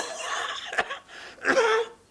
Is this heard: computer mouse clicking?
no